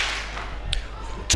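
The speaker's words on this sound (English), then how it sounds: "Ones, give me one clap." A crowd at a Saturday night Buskerteers Choir show at Potters Resorts answers with one sharp, unified clap near the end, after a softer stray clap and a low background hum.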